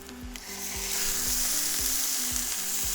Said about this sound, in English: Now we have got the pan, as you can see, nicely sizzling.